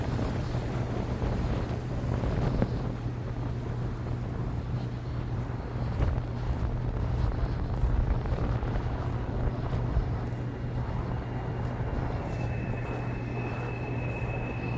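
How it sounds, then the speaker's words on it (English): Steady wind buffets the microphone with a constant low rumble and hum throughout, loud and unbroken, at Bonnet Springs Park in Lakeland, Florida. "It's windy today."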